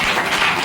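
A congregation at an anointing service in Amalapuram claps loudly and densely, a short, close burst of crowd applause.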